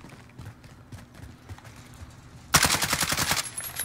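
Gunfire in Modern Warfare: faint scattered shots and footsteps, then a sudden loud burst of rapid automatic fire about a second long near the end.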